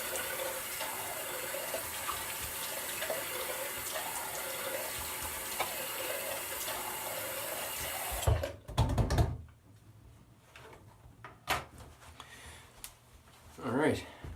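Tap water running into a sink while wetting the face before shaving, a steady close rush that stops partway, followed by scattered handling knocks and splashes.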